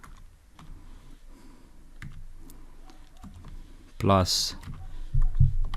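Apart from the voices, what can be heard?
typing on a computer keyboard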